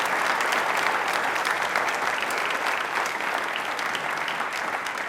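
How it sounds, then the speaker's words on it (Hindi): Sustained, dense applause from a studio audience at a quiz show, steady and fairly loud throughout with no talking. "एक बार तालियां जोरदार पहले बजा दीजिए इनके लिए"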